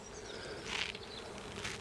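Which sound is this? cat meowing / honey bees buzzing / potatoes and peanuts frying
honey bees buzzing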